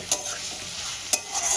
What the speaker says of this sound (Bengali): সেই আলুটা দিয়ে মশলার সঙ্গে খুব ভালো করে কষাবো